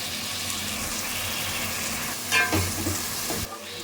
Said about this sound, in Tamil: தக்காளி வெங்காயம் நல்லா வதக்கிட்டேன்